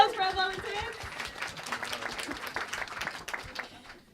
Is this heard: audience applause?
yes